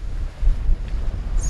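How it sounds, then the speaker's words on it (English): Gusty wind aboard a sailboat at sea, a heavy rumbling buffet of wind on the microphone with surging low roar, brief and close, with faint water and rigging sounds. "It's definitely gusting over 20, I reckon."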